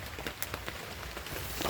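Steady rain patters on surfaces nearby, a dense close hiss with scattered sharper drops, no voices.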